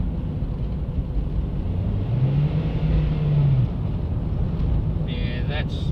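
A car pulling in third gear with a slipping clutch, a steady droning engine and road rumble with a rising, wavering tone as revs climb without matching speed, heard from inside the cabin.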